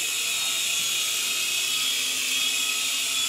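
A small beginner RC helicopter whirs with a steady high-pitched motor whine, close and constant throughout, with no talking.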